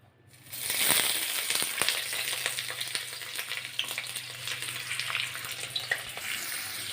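Onions and green chillies drop into hot oil in a wok and sizzle loudly, a dense crackling hiss that swells after a quiet start and continues steadily, with occasional spatula scrapes.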